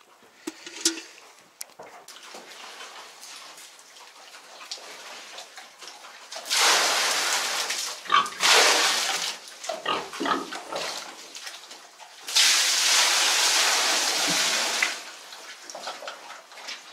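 Sows on a farm grunting and oinking while being fed beet, with rustling and sloshing feed and water noises in bursts, close by and without talk.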